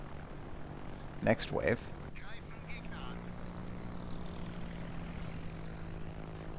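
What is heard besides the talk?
aircraft engines of carrier planes flying, from a naval video game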